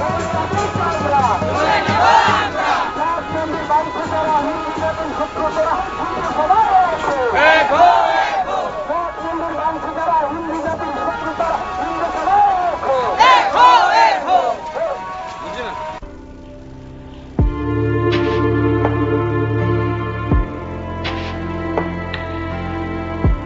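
Protest crowd at a street demonstration, voices massed together in loud surges of shouting and chanting that rise and fall; partway through it cuts to a quieter, steadier passage with a sustained tonal hum.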